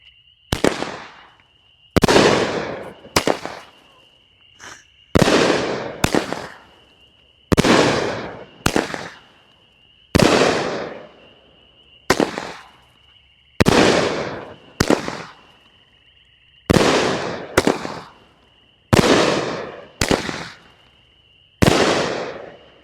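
A 500g fireworks cake, Surefire Midnight Mirage, fires shot after shot, each sharp launch thump followed by a crackling burst, repeating at a steady, irregular pace with a faint background hum.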